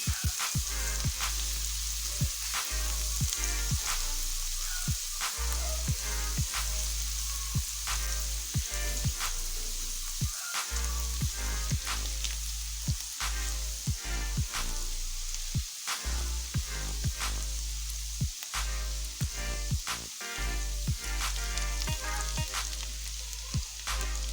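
Keema (minced beef) filling for bread frying lightly in a pan: a steady, dense sizzle runs throughout with repeated soft clicks and scrapes of stirring, close and fairly quiet, no voices.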